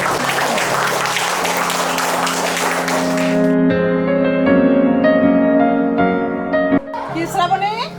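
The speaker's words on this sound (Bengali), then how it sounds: "হাততালি দাও।" Schoolchildren clap together in a government primary school classroom in Dinajpur, a dense burst of clapping lasting about three seconds before it gives way to sustained, tonal voices.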